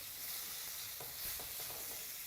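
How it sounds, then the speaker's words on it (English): A steak sears in a very hot pan, giving a continuous bright sizzle and crackle with a few louder spits from the fat, heard up close with no talking. "now we've got a sizzling pan here, and this is going to go into the pan, straight hot"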